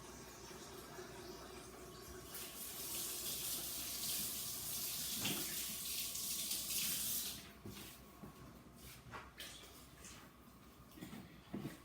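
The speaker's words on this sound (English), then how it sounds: "Gotta wash my hands now." Steady broadband rush of a tap running into a sink while hands are washed during turkey bone broth prep, continuous for about seven seconds, then thinning into scattered splashes and drips.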